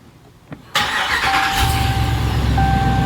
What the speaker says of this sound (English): you want to fire the truck up